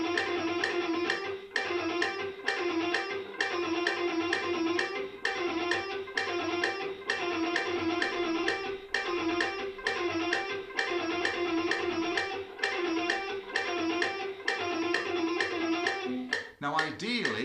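Fast, even shred-picking exercise on an electric guitar at 130 bpm, a dense run of rapid picked notes with regular accents, played close and alone for about sixteen seconds before a brief change at the end.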